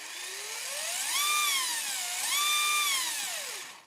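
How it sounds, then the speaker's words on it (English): The small electric motor of an XR311 model car whines at high pitch, rising and falling twice as the throttle is worked. It is close and clear, with no talking. "Do you hear the motor? That's making a very nice sound."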